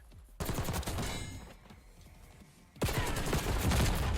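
Rapid bursts of automatic gunfire in the shooter game Black Ops 6, two dense volleys separated by a quieter gap, loud and close with no talking.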